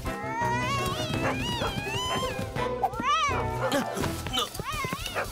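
A cat meows repeatedly, drawn-out and rising and falling, close by, with a few overlapping cries.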